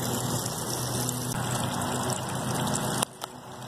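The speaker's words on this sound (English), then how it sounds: "Here's the downstream flow." Water from a homemade water wheel sawmill built from household materials flows steadily downstream in a continuous close rushing gush, then drops away abruptly near the end.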